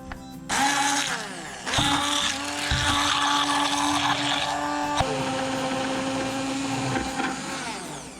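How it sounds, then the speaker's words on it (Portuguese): A handheld immersion blender processes plant leaves with no added water, its motor whining loudly and steadily for several seconds with shifting pitch as the blade works through the leaves. "eu prefiro usar o mixer do que o liquidificador."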